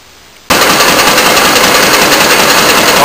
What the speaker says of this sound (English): Okay, the engine's running.